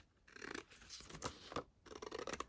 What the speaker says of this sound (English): I'm going to just cut this rather than tear it. So just cut that along the edge.